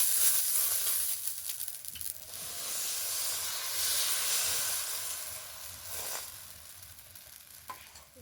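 Chitoi pitha, soft rice cakes, frying in a kadai. A quiet hissing sizzle swells and fades with a few light scrapes, close by and fairly faint, with no voices.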